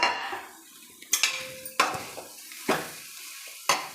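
Cooked rice is mixed into fenugreek leaf gravy in a pan, with sharp metallic clanks of a spoon against the pan at uneven intervals and soft scraping and shuffling between, close up.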